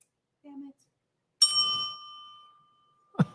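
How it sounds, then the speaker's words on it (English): A small handheld bell on a live sports talk show gives a single bright ding that rings out and decays over about a second, after a brief low sound and followed by a clunk. "I have the bell somewhere."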